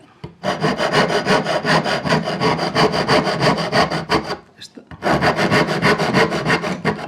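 Old, very dry, fairly hard walnut wood is worked by hand for jewellery making with rapid rasping, sawing-like strokes, loud and close, with a brief pause before the strokes resume.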